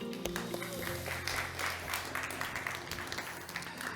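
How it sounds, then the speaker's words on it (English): An audience at an energy tech summit applauds a panel moderator's introduction. A steady wash of clapping fills the hall, heard from within the crowd, with faint voices mixed in. "Round of applause, please."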